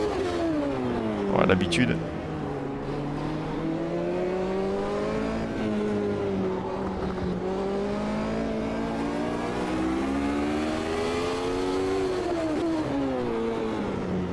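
Race car engine droning and revving through manual gear shifts in the racing video game Automobilista 2, pitch rising and dipping steadily over a long stretch, with a brief squeal early on and someone speaking French over it.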